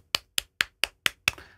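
Six punchy kick drum hits in an even rhythm, EQ-boosted around 3200–3400 Hz, each with a sharp, clicky attack and quick decay, played alone.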